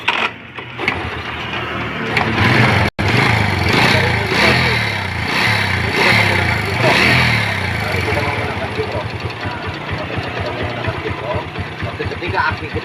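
Motorcycle engine idling with its regulator rectifier disconnected, a steady close mechanical putter with a brief sharp click partway through, while someone talks over it.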